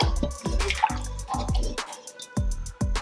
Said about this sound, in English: go ahead and pour the eggs inside